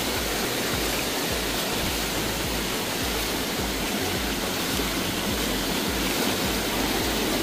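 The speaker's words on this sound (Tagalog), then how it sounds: "lakas ng tubig" Powerful river water rushing loudly and continuously in a steady, dense roar, close by with no voices.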